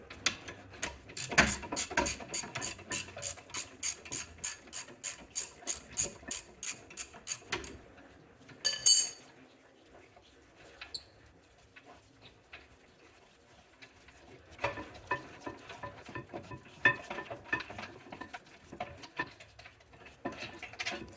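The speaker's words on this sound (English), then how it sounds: "now being able to remove the bolts completely." Loosened bolts being removed from the rear brake of a 2014-2024 Mercedes-Benz Vito, heard as a long run of steady ratcheting clicks, then a metallic clink, a quiet pause and more irregular rattling and handling close by.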